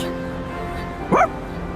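Koromaru, the dog in Persona 3 Reload, gives a single short bark or yip partway through, fairly close, over a soft sustained game music background with no talk.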